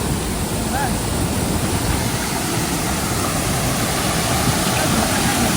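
Water pours down a small forest waterfall at Malgund, flow reduced after little rain, making a steady, close, unbroken rushing roar.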